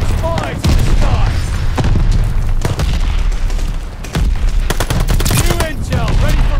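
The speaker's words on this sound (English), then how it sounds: "Enemy glide bomb incoming." In Call of Duty Vanguard multiplayer, loud booming blasts and rattling gunfire pound throughout, heavy thuds landing amid continuous shooting with voices talking over it.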